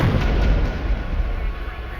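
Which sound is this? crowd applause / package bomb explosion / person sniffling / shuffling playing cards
package bomb explosion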